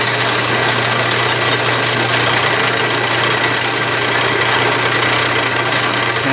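An Atlas/Craftsman 12-inch lathe takes a light scratch cut on a 20 threads-per-inch thread, giving a steady, loud machine drone with a constant low hum and broadband whir, unbroken and with no voices.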